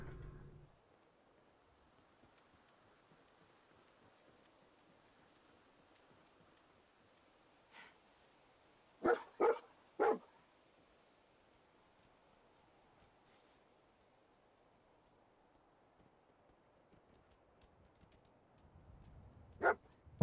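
Dog barking in the video game Fallout 4: a quiet scene broken by a small cluster of three short barks in the middle, plus a faint earlier yelp and another bark near the end.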